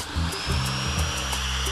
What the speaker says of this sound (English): I'm just using a hole saw to create a hole somewhere within this circle